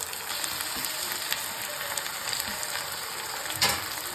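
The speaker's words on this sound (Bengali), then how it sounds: "এবার আমি এগুলো মশলাগুলোকে ভালো করে ভেজে নেব" Garlic, chili and green tomatoes fry in a pan, giving a steady, close crackling sizzle with a few sharper pops and scrapes near the end.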